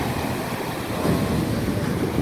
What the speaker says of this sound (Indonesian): Nah, ombak ukuran ombaknya itu ya.